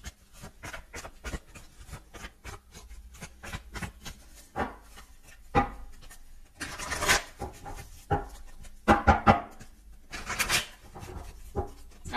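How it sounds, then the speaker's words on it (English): Tarot cards are shuffled near the microphone in a quiet room, giving soft irregular rubbing and riffling sounds with a few louder flicks and snaps toward the end. "I just want to shuffle up the cards."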